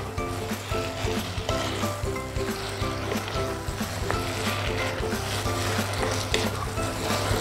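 Vegetables sizzle and hiss in a hot pan for a martabak chicken curry filling, with steady frying broken by scraping stir strokes, close and continuous with no talk.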